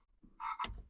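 A single short frog-like croak, fairly faint, heard on its own against quiet background hum while someone works on an old Ford.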